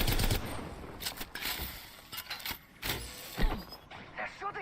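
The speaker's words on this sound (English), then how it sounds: "They're shooting at me." Enemy gunfire in a video game crackles in a series of sharp, uneven bursts of shots, fairly close and loud against a busy background.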